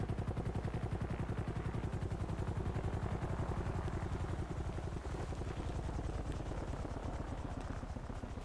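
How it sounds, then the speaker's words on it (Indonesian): A helicopter in the GTA 5 video game gives off a steady, rapid rotor chop with a constant engine drone underneath, moderately loud and even all the way through, with no talking. "Kok ada suara helikopter sih?"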